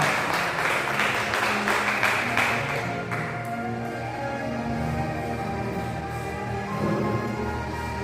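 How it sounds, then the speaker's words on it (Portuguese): A church congregation claps during a worship service, a dense burst of applause for about three seconds that then gives way to sustained organ-like music carrying on alone. "Aplauda o nome santo do Senhor"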